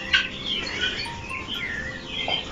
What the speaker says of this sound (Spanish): son codornices o son palomas así